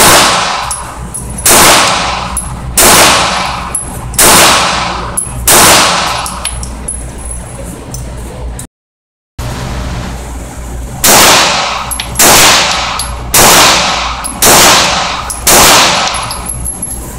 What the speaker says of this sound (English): both sets of 5 rounds were fired in the exact same manner from the exact same stance